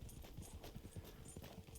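Horse hooves clip-clop at a steady trot in a video game, with a faint whinny, soft and somewhat muffled, no talking.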